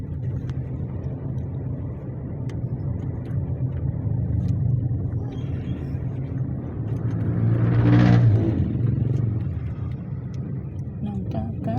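Heavy road traffic on a narrow city street in the Philippines, heard from inside a vehicle as a steady low engine rumble that swells when a vehicle passes close by, with people talking over it.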